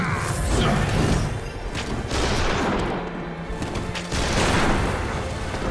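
Bursts of gunfire and crashing impacts come from combat in the video game Bloodborne, loud and clustered in irregular volleys over about six seconds with brief dips between them.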